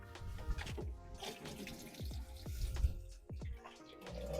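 Cold rainwater from a rain butt is poured into a boiler for mordanting wool, producing quiet, uneven sloshing and splashing in short gushes at close range.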